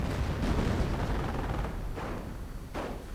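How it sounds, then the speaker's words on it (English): Artillery fire in a multiplayer real-time strategy game, a dense rumbling barrage with a few sharper blasts rising out of it, steady and moderately loud with no one talking over it. "Using artillery on this spot"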